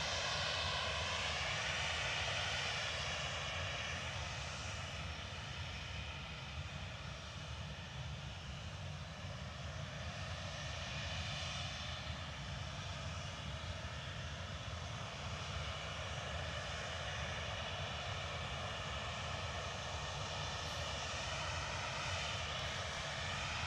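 A Ryanair airliner at Manchester Airport makes a steady, loud engine roar with a whining tone that holds throughout, sounding like an aircraft heard from fairly near on a windy day.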